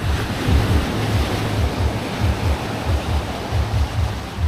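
Ocean waves at Karang Bolong beach surge and wash ashore in repeated rolling swells, loud and near, with wind noise buffeting the microphone and no talk.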